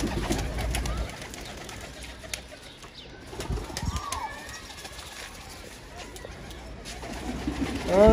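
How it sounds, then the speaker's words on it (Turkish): Pigeons or doves cooing softly outdoors near a hidden nest, with a brief flutter of wings as a young bird takes off, while people talk nearby. "Aa yavru kuşu kalktı lan ya."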